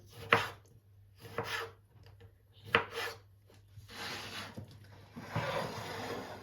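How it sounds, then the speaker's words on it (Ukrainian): A knife cuts an ordinary tomato into pieces on a board, making several separate, close chopping thuds with short scraping rubs between them, spaced irregularly and heard clearly over quiet kitchen hum. "Нарізаємо ось такими шматочками."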